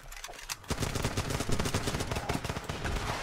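Video game gunfire in Running With Rifles: a rapid, continuous rattle of close automatic fire, with bursts overlapping loudly throughout.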